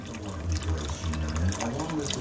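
Beef broth, 32 ounces, pours steadily into a pot of beef stew, a close, continuous liquid splash and gurgle lasting a couple of seconds.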